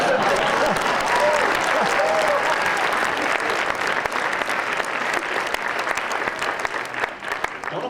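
An audience at a 2003 juggling festival show in Reno gives loud, dense applause that carries throughout and tapers slightly toward the end, with a voice speaking over it.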